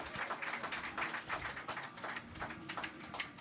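Scattered applause from a football crowd at the lodge end of the ground for Andy Welch before a Bury AFC versus Ilkley Town AFC match, a steady, fairly faint patter of clapping throughout.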